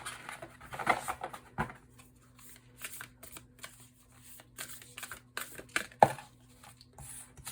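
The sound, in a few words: shuffling tarot cards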